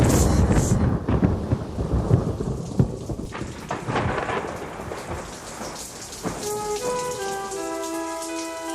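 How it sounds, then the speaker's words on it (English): Heavy driving rain and rolling thunder from a night storm drum steadily against house windows, a dense continuous wash with deep rumbles, and soft tonal musical notes rising near the end. "The night was black, and the driving rain played a constant drum roll on the windows of Hank Bush's little house."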